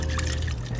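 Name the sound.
brewed coffee being poured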